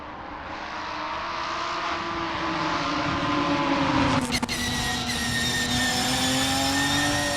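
Ginetta G55 race cars starting a race at Knockhill in Assetto Corsa, with a field of engines droning and rising in pitch together, loud and steady, and a brief sharp gear-shift or crackle partway through.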